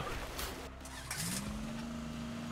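A car in the video game You Suck At Parking drives with a steady engine hum that rises into a sustained higher whine, alone, with no talk.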